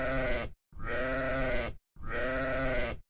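Three long, loud sheep bleats ring out one after another with brief silent gaps, close and alone.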